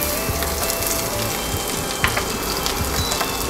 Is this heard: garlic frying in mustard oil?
yes